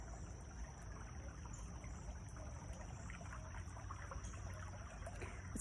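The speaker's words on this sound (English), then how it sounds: "I pause for a minute and hear a few seconds to hear the sound of the water." A small creek trickles and burbles steadily along its bed on a quiet nature walk, a soft continuous flow heard alone with a faint constant hiss.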